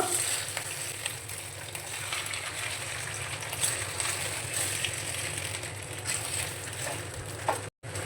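Curry leaves and prepared ingredients frying in a kadai over a medium gas flame, a steady crackling sizzle broken by stirring scrapes, with a sudden brief cut-out near the end.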